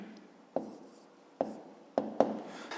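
Pen writing numbers by hand on paper during a fifth-grade maths division exercise, a steady scratchy scribble with four sharper taps as digits are started, close and quiet with no talking.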